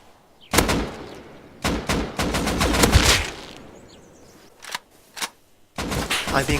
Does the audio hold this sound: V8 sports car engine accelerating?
no